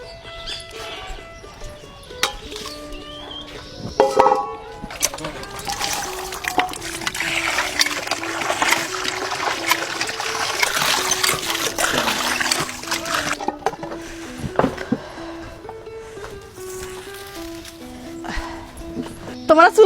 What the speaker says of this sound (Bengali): চলো আপা মাংসটা ধুয়ে নি